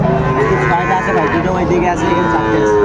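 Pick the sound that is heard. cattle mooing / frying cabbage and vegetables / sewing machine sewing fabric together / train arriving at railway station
cattle mooing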